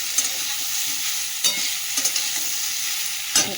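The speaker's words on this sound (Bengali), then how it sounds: "পেঁয়াজ গাছের যে পেঁয়াজ পাতা আর পেঁয়াজগুলো কেটে রেখেছিলাম, ওইগুলোও দিয়ে দেবো ভাজার সঙ্গে।" Onions and chopped onion greens frying with spices in a pan, a steady close sizzle broken by several sharp scraping stirs of a spatula, with no voices.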